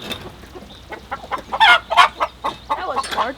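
Chickens clucking on a farm, a series of close, uneven bursts of clucks and squawks rising in loudness partway through, with no talking.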